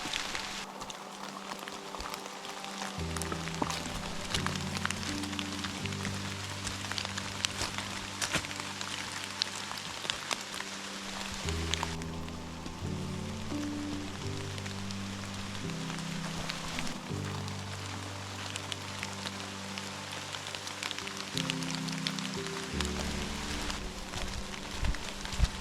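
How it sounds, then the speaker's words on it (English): Rain patters steadily on a backpacking trail and on the microphone, a dense crackling hiss heard over a sustained musical backing. "The audio is probably a little muffled due to the rain in my microphone."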